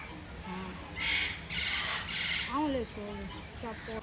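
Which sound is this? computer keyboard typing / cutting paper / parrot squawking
parrot squawking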